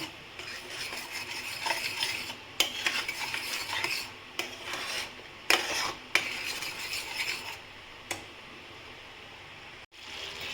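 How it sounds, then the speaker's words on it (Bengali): Paneer masala being stirred steadily in a pan over medium heat, a continuous scraping and rubbing texture broken by sharper spoon-on-metal clicks and knocks at irregular intervals, close and moderately loud with no talking. "নিচে যাতে না লেগে যায় সেজন্য এটা সমানে নাড়তে হবে"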